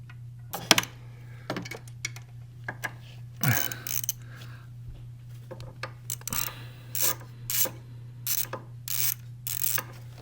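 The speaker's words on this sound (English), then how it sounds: "So basically right now we're screwing this back on." Screws are driven back into an EGR valve on a 2012–2016 Mercedes-Benz GL 350 with the OM642 diesel engine, heard as bursts of ratcheting clicks and metallic scraping at close range over a steady low hum, without speech.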